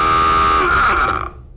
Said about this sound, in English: sound 2 blasts of dive alarm, pass the word, dive, dive